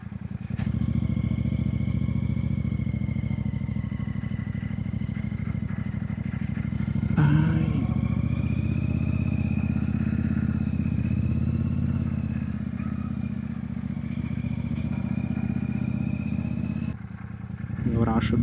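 A motorcycle engine drones steadily and close for most of the stretch, its pitch shifting slightly as it runs, with a brief clatter midway and a short dip near the end.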